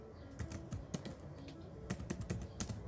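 Keys clatter on a computer keyboard in quick, irregular bursts of close, quiet taps while a writer types into a note-taking app.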